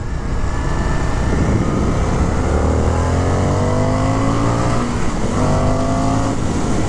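A 2023 Indian FTR R Carbon 1200 motorcycle speeds up hard in a straight line. It gives a loud, close engine roar whose pitch climbs steadily, then drops briefly at a gear change before rising again.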